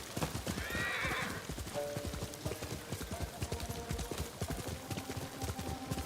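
A horse neighs loudly at the start, then hooves clip-clop in a rapid gallop rhythm in a samurai video game, steady and fairly close, with no talk.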